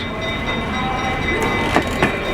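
Passenger riding a Christmas excursion train in a Pullman coach: a loud, continuous rumble of the rolling railcar with creaking wood and a couple of faint clacks from the rails.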